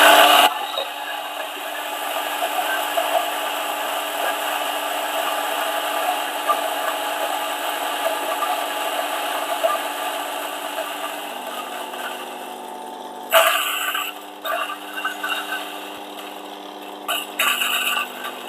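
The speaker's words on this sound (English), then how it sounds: "put this here, and then we just turn on the grinder" A DF64 coffee grinder grinds a dose of coffee beans with a loud, continuous motor whir up close that runs unbroken for many seconds. The grinding shifts slightly in tone and roughens toward the end.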